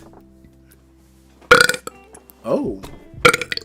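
Two loud, close belches burst out about two seconds apart, with a short spoken exclamation between them and quiet background otherwise.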